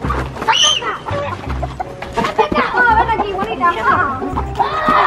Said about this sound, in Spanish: ¿cómo te atreves a coger una gallina?